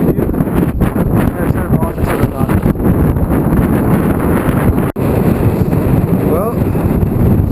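Strong wind buffeting the microphone at the top of a fire tower, a loud continuous roaring rumble with gusty surges and occasional rattles.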